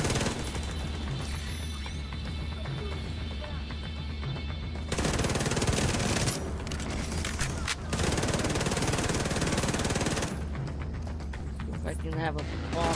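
Dense bursts of automatic gunfire from the video game The Division 2 rattle loudly in long sustained volleys with short pauses between, under occasional talk from a player.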